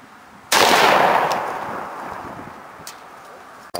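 A single loud shotgun blast is fired outdoors at a target 20 yards away. The sharp report is followed by a long decaying echo, then faint ticks.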